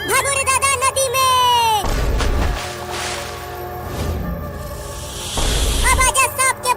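A cartoon cobra hisses in a long, airy burst midway through, framed by high, squeaky animated voices and music before and after.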